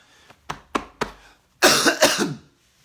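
A person coughs several times: three short coughs, then two longer, harsher coughing bursts close to the listener.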